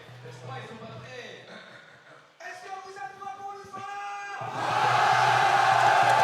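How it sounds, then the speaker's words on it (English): A large crowd at the ARC World Tour 2023 Guilty Gear grand finals roars and cheers, swelling into a loud, sustained wall of noise after a stretch of music and voices. "Then the crowd roaring"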